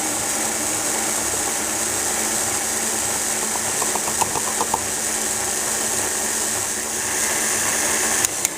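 A stand mixer beating flour into cinnamon roll dough, a steady close motor whir with a low rumble, a few faint rattles midway and a brief click near the end.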